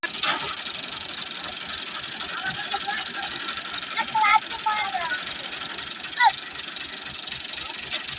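A tractor engine runs at a low, steady idle-like throb while reversing, with a repetitive knocking pulse, faint squeaks and a couple of brief bumps over the drone.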